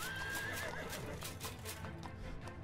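A horse in the VR combat game HellSplit Arena neighs loudly at the start, set against busy game sounds with hoof clip-clops and scattered impacts.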